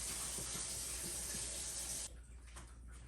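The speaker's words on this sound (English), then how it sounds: "then I'm gonna rinse it with water" Tap water runs steadily into a hollowed-out pumpkin being rinsed, a close hissing splash that cuts off after about two seconds, leaving faint dripping and handling sounds.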